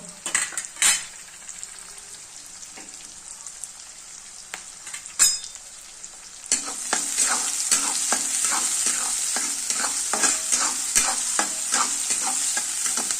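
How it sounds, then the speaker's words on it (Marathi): Masala okra being stir-fried in a pan with garlic and onion: a steady close sizzle with repeated spatula scrapes and clinks against the metal pan, growing louder and denser partway through, with no voices. "छान मस्त असं परतून द्यायचं पूर्ण असं छान लगे कलर चेंज होईल तोपर्यंत"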